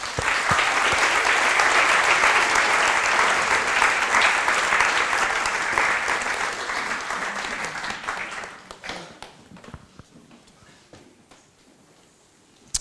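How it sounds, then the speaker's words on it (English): An audience at a startup talk event bursts into loud, dense clapping that holds strong for several seconds, then thins out into scattered claps and fades to near quiet. "welcome them with a big round of applause."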